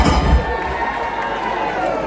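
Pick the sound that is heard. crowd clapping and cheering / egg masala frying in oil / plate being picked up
crowd clapping and cheering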